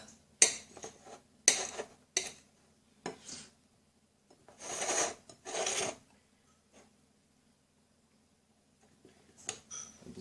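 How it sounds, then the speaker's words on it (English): A knife slicing a mushroom on a plate, several short separate cuts with scraping and clinks, close and quiet with silent gaps between strokes. "grab your first mushroom and start slicing it"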